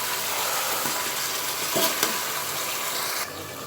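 Marinated chicken for dum biryani being stirred in a pot with ghee, producing a brief sizzle and a couple of scraping stirs at close range before the sound drops away.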